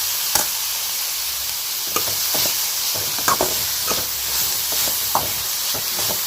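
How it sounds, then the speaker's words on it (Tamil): Cabbage sautés in a hot pan with a continuous sizzling hiss, broken by scattered scraping strokes and taps of a spatula stirring it, close and steady throughout. "பாருங்கள், முட்டைக்கோஸ் நல்லா வதங்கிட்டு இருக்கு."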